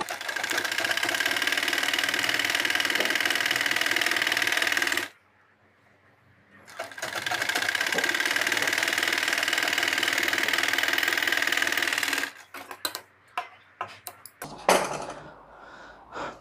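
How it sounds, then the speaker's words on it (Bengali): A sewing machine top-stitches a pair of baby pants, running loud and close in two long steady bursts separated by a brief pause, then trailing off into scattered handling clicks. "এ পর্যায়ে আমরা এখান দিয়ে চাপ সেলাই দিয়ে দিচ্ছি"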